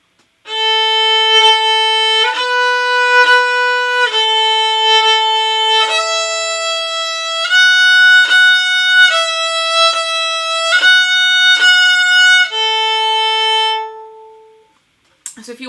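Violin playing the beginner tune Jumping Down: a simple melody of clear, sustained bowed notes stepping between pitches in a steady rhythm of short and longer held notes, heard alone and fairly loud for about fourteen seconds before ending.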